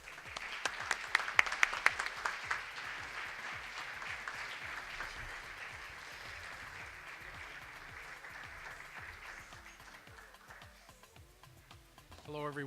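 Applause from a luncheon audience for an award winner, with a few sharp near claps at first, then a long even patter of clapping that thins before a voice begins speaking.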